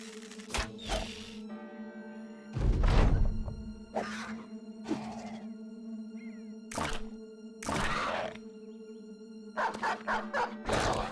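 Warhound barking in a video game, a series of sharp separate bursts and thuds spread across the stretch over a constant tonal background, moderately loud.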